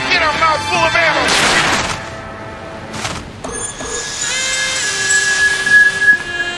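Gunfire from the Sam & Max: Beyond Time and Space game, a burst of sharp shots near the start followed by whistling tones and game sounds.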